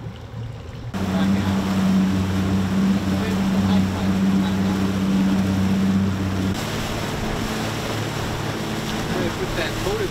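Outboard motor on a fishing boat offshore near Fort Pierce, Florida, starting on the first try and settling into a steady low hum, with wind and waves rushing around it.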